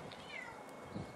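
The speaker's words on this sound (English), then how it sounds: "The cat is meowing because she wants to come out, but she's meowing at the snow" A house cat meows faintly indoors, wanting out into a snow-covered garden, a single soft, drawn-out mew over quiet room tone.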